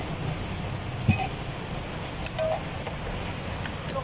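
Heavy rain falls steadily outdoors at a roadside coffee and cocoa stall, a dense even hiss of drops on surfaces with one brief knock partway through.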